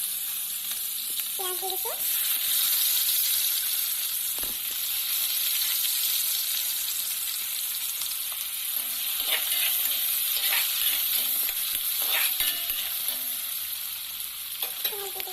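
Onions frying in oil already used for frying, a steady broadband sizzle with occasional stirring clinks throughout, and a brief voice speaking once near the start.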